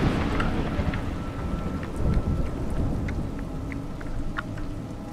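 Steady heavy rain hisses continuously in the game A Juggler's Tale, with low rumbles of thunder rolling beneath, one swelling louder midway; no talk.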